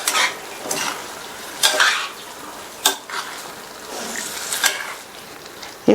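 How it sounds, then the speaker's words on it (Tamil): Boiled plantain stirred into a radish masala in a pan, a spoon scraping and clinking in a few distinct strokes over a faint, steady sizzle. "வேக வச்ச வாழைக்காயை இதில் சேர்த்துட்டு இந்த மசாலாலாம் நல்லா மிக்ஸ் பண்ணி விட்டுருங்க."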